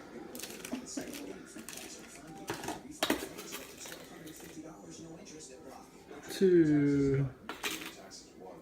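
Butter and sugar being mixed in a bowl for French toast, giving repeated clinking and scraping clatter of utensil against the bowl, with a person talking over it.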